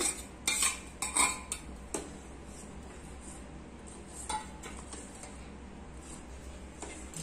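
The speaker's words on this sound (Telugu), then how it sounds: "ఉడికించి పెట్టుకున్నాం కదా పెసరపప్పుని ఇందులో కలుపుకునేస్తాము" A metal spoon clinks and scrapes against a pot as cooked moong dal is stirred in, with a few sharp knocks early on, then softer, sparse scraping.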